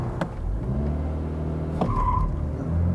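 Brief high tire chirp as a 2022 Subaru BRZ sports car launches in manual mode, riding over a steady loud engine drone that builds through the run.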